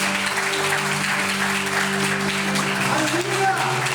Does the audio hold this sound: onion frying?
no